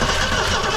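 A rat-infested 1963 Mercury Comet with a 260 V8, not started in over 25 years, cranks with a loud, close, steady churning roar that fills the short moment, with no talking.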